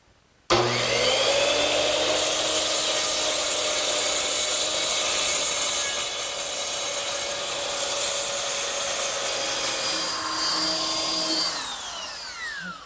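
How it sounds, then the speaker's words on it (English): A circular saw screams through wood trimming angles on a pencil post bed, one long, steady cut, loud and close, its whine dropping slightly midway before the blade spins down at the end. "now I'm just going to take a circular saw and trim the angles"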